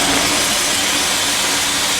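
A Disney steam locomotive vents steam in a loud, steady, broadband hiss that roars continuously from start to finish, close by.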